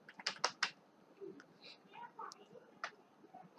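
Quick keystrokes on a computer keyboard, a burst of close clicks and then scattered single taps, with a soft voice talking low underneath.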